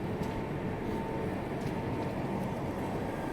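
The Bihar Sampark Kranti express rolls along at speed while overtaking the Mahabodhi Express, heard from inside as a constant, low, muffled rumble of wheels and carriage noise, quiet and unbroken.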